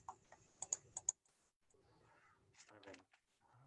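Computer keyboard typing at a library search terminal, a quick burst of sharp clicky keystrokes near the start, followed by quieter shuffling and a voice talking in the background.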